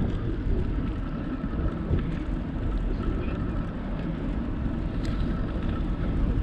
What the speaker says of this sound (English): it sucks because of the wind